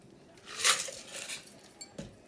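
Quiet close-up clinking as a bar spoon stirs a Gold Rush bourbon cocktail, soft swirling metallic scrapes followed by a couple of sharp light taps against glass.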